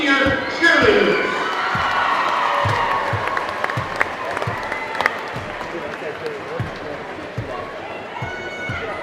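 A basketball gym crowd applauds the senior cheerleaders with sustained clapping and some cheering, while sharp thuds and squeaks from the court punctuate the noise.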